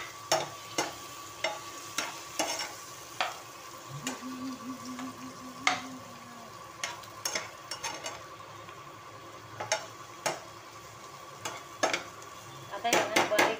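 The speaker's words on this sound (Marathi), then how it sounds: "आणि आता आहे ना हे असेच चांगले फ्राय होऊन द्यायचे वांगे." Brinjal frying in a pan over low gas and stirred with a utensil, with repeated scraping and clinking strokes at an uneven rhythm over a soft background sizzle.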